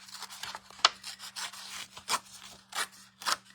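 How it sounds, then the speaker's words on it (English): Paper torn by hand in small strips for a card technique, a series of soft, close ripping and rustling bursts, quiet and irregular. "So I'm going to tear another piece"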